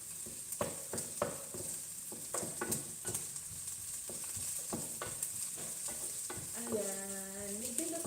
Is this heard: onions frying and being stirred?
yes